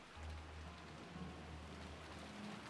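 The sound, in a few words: rain falling, from the video game Umineko When They Cry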